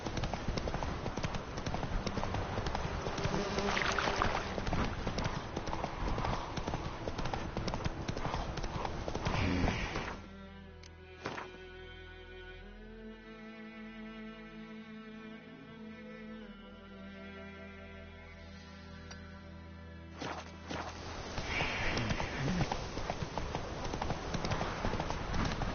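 Roach, a horse in a video game, trots with a loud, continuous clip-clop of hooves that drops to a quieter stretch midway, then returns at full strength.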